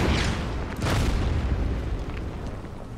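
Continuous heavy booming from an artillery strike in the WWII strategy game Order of Battle: Panzerkrieg, a dense rumbling roar of overlapping explosions that stays loud throughout.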